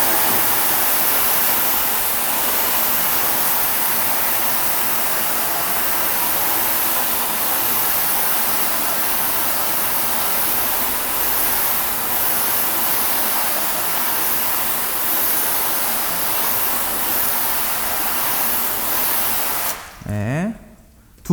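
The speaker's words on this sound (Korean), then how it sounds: "자, 물로 한번 헹궈 보겠습니다" Water sprays hard onto a car wheel, rinsing off freshly applied acidic wheel cleaner from a coated surface. The hiss is steady, loud and close, runs without a break for about twenty seconds, then cuts off abruptly.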